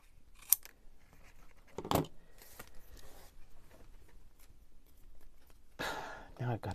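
Scissors trim the bottom edge of a sheet of paper in a few quiet, separate snips, close by, with soft rustling in between.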